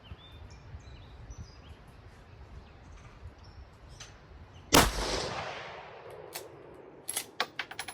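A single sharp rifle shot from a Mossberg Predator 556 cracks loudly outdoors and echoes away, with birds chirping faintly before it and a few light clicks afterward.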